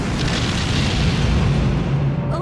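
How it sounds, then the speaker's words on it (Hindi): A bridge being blown up in an action movie scene produces a sustained, roaring explosion with a deep rumble that fills the whole clip at high volume. "वो सिर्फ ब्रिज उड़ा रहे हैं।"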